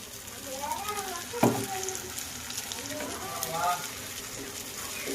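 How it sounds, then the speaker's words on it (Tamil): Onion and tomato sautéing in a pan for Tamil-style prawn thokku, with a soft, steady sizzle running throughout under a person speaking. "வெங்காயம் தக்காளி நல்லா வதங்கி வரட்டும்."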